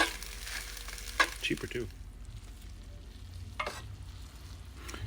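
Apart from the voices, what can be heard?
food frying and sizzling in a pan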